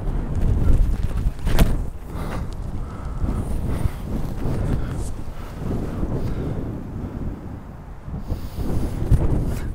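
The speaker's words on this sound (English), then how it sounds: "Dude, this is the hardest wind possible in this." Strong, gusty wind roars across a disc golf course in Las Vegas, heavy buffeting on the microphone producing a loud, constant low rumble with rougher surges throughout.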